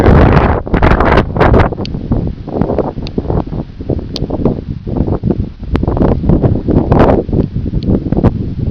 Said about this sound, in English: Oh yeah, wind gust, big time.